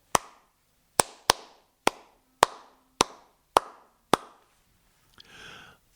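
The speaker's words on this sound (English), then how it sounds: "We're going to clap the rhythm to the Black Note March" Hands clap out a march rhythm, eight sharp, close claps in an uneven pattern with short and long gaps and a faint rustle at the end, with no talking.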